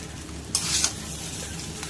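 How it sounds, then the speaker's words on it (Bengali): Veg paneer biryani with soya and jackfruit being stirred in a pot, a brief scraping stir of about a third of a second over a low, steady kitchen background, fairly quiet and heard alone. "এইবার এটাকে নেড়ে নেব।"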